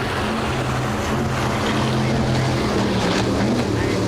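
A 38-foot Donzi offshore racing powerboat in a Factory 2 Super Boat race off Deerfield Beach, Florida, its engine roar blending with wind and splashing water in a steady, loud rush.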